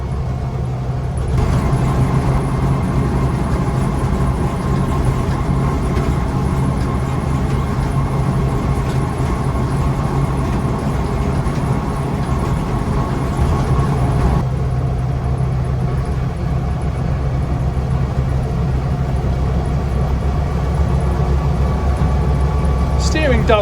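A 1963 Land Rover Series 2a 88in on a galvanised chassis idles steadily, a loud, even, droning engine note running unchanged for over twenty seconds.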